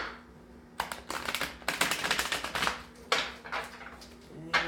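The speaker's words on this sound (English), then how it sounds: "I'm going to shuffle one more time." Crisp bursts of rapid riffling clicks as a deck of tarot cards is shuffled several times in a row, close by and otherwise quiet.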